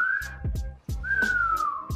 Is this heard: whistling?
yes